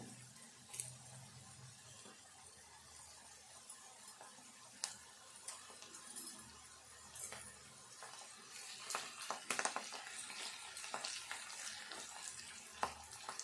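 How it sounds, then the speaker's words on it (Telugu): Curry leaves fry in hot tempering oil for a lentil and meal-maker dish, giving a faint, steady sizzle with scattered crackles and pops, quiet and close, with no talking. "ఇది కూడా మంచిగా తాలింపుతో పాటుగా వేగాలి"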